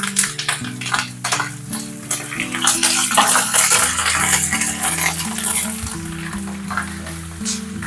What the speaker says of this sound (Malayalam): ഇഞ്ചിയും പച്ചമുളകും നല്ലോണം മൂത്ത് വന്നിട്ടുണ്ട് ഇനി ഇതിലേക്ക് നമ്മൾ എടുത്ത് വെച്ചിട്ടുള്ള കറിവേപ്പില ചേർത്ത് കൊടുക്കുന്നുണ്ട്